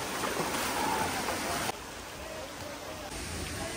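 A monsoon waterfall and stream rush in a continuous broadband wash that drops slightly in level partway through, with no clear talk.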